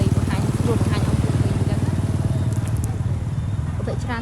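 Motorbikes ride along a busy night street on Road 60 in Siem Reap, a steady engine rumble with passing machines throughout, while a person talks over the traffic.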